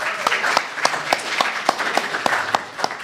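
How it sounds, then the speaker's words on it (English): An audience at a Universal Peace Federation gathering applauds a speaker named David with steady, dense clapping that fills the room at full volume, while a voice murmurs faintly underneath. "Can we have a round of applause for David?"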